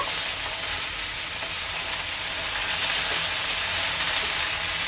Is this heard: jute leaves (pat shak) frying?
yes